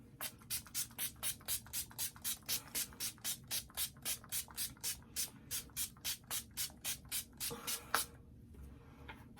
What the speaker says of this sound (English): it is a setting spray. And now I set.